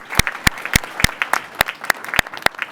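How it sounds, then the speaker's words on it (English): Applause at a county council labor summit in a Teamsters union hall, a small group of hands clapping sharply and unevenly for about three seconds, close and fairly loud, with no voices. "Round of applause for Denise Cobden"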